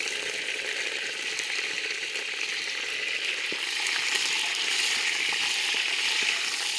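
Green chilies and curry leaves frying in hot oil in a pan, with fenugreek seeds added just before, giving a steady, close, bright sizzle throughout with no voices.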